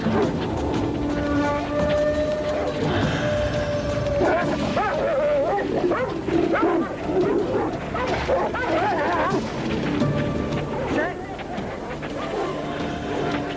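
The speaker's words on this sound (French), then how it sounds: "Les chiens." Dogs bark and yelp in a busy, continuous racket over a loud background, with growls and whines mixed among the barks.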